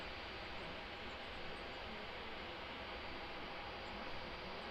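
A Wizz Air airliner departing London Luton for Tel Aviv produces a steady, broadband jet roar that holds at an even level throughout, heard from a distance.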